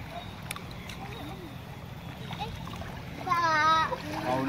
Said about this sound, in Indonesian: Itu ya, anak kecil-kecil berenang.